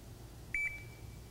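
An MSA Solaris gas detector gives a short electronic beep during its warm-up, a brief pair of high tones with a faint trailing whine over a quiet room background.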